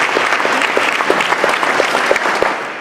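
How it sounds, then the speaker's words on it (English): Audience applause at the closing session of a livable communities summit: dense, steady clapping from a crowd with sharp individual claps on top, beginning to taper off at the end. "Can we give him another round of applause?"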